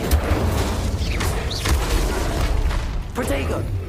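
Incendio fire spells cast in Hogwarts Legacy make loud, deep booming bursts of flame with a roaring rumble, repeated over a few seconds amid combat effects and vocal grunts.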